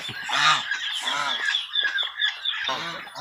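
Several geese honk loudly and repeatedly, harsh nasal calls overlapping in quick bursts close by.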